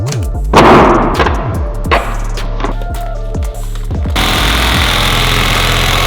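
Hammer drill pounding into a floor while anchoring a grade IV gun safe, starting with loud irregular impacts and chatter, then settling into a dense, continuous rattling hammering.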